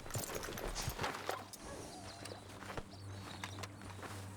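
Horse hooves clop at a steady walking pace in Red Dead Redemption 2, close and moderately loud over ambient outdoor game sound.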